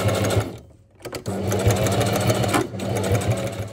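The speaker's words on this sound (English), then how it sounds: "next job is to sew in into the top of the bag" A sewing machine stitches straps into the top of an army backpack being converted into camping gear, with a close, fast mechanical chatter in bursts and a brief pause.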